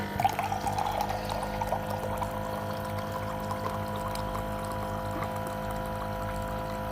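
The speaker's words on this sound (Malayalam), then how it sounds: "അപ്പം ജസ്റ്റ് വെള്ളം ഒന്ന് ഒഴിക്കാം. ബട്ടൺ ഞെക്കണം." Water runs from a push-button dispenser into a drink glass, a steady close pour that spatters brightly at the start, then settles into a continuous trickle over a low background hum.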